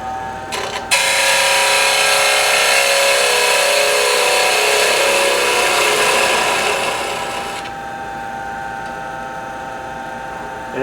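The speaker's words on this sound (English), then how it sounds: "Use my trusty spindle gouge." Spindle gouge cutting a concave into a wooden waste block on a lathe, close and loud: a steady broadband rasping hiss that runs for about seven seconds, then drops to a quieter spinning whir.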